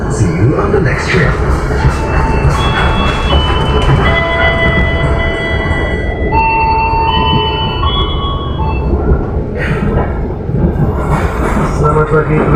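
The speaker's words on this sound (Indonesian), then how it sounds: "Sesaat lagi kereta api Brawijaya akan tiba di stasiun Belingi." The Brawijaya passenger train of Indonesia's state railway rolls along single-track rails, a loud steady rumble of wheels with squealing tones and clatter, while voices talk over it.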